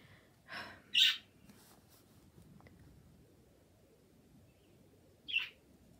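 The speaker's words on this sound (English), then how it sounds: "I'm very sorry about my birds. They are so loud." Two or three sharp, loud bird squawks in short bursts near the start, then a quiet pause before one more shrill call.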